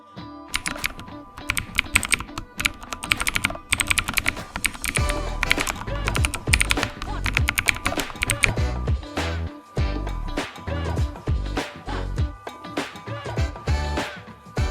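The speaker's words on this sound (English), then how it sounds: "Type your name and hit enter." Typing on a computer keyboard at a Kali Linux terminal, a dense run of quick, close key clicks with brief pauses that lasts throughout, alone without talk.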